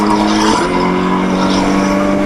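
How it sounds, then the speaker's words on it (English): A race car with engine trouble, at a TDC Brands GP circuit race, rumbles loudly and unevenly as it pulls into the pits, its engine note dropping and wavering throughout. "It's Darren Goes, pulls into the pits, and it looks like his car is very, very sick indeed"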